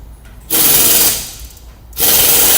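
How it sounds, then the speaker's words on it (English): Micrometer ratchet buzzing in fast clicking bursts while being tightened on a brake rotor, two loud close runs separated by a short pause. "take your micrometer, find a good spot on the rotor, turn it, make sure that it's completely flat at like a 90-degree angle on the rotor. You'll hear it start to click."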